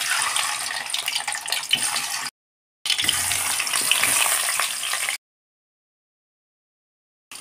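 Potato slices and eggs frying in hot oil in a pan, steady close sizzling in two bursts separated by brief silence.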